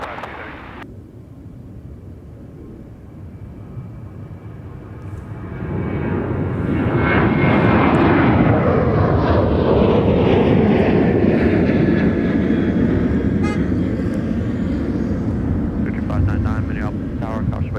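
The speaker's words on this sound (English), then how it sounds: "Runway 30 left, clear for takeoff." A Delta heavy jet airliner takes off from runway 30 left at Minneapolis–Saint Paul airport, its engine roar building from a distant hum to a loud, sustained rushing thrust, with radio chatter heard over it.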